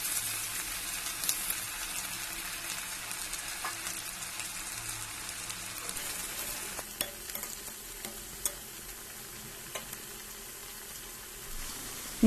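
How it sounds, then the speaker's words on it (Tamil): Ragi flour mixture frying in a pan, a steady soft sizzle with occasional stirring scrapes and small pops, fairly quiet and close, with no voices over it. "அதில் ராகி மாவு மிக்ஸ் பண்ணி இப்போ அதை நான் ஃப்ரை பண்ண போகிறேன்."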